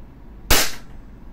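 A single sharp airsoft gun shot fired during a chronograph FPS test, a loud abrupt crack with a short fading tail, heard alone.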